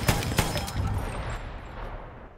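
Gunshots in a shooter video game sound as a few sharp cracks in the first second, then a lingering rumble that fades away, distant and moderately quiet.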